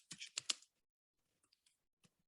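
Quick keyboard typing: a burst of four or five close, crisp keystrokes at the start, then a few faint, widely spaced taps after a pause, with no talking.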